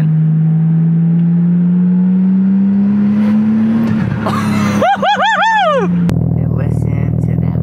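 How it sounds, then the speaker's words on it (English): A Nissan Skyline R32 GTS-T with a newly installed exhaust and downpipe idles loudly and steadily, dips, then cuts in with a sharp, rising rev burst before settling back to a low rumble. "Listen to that monstrous idle."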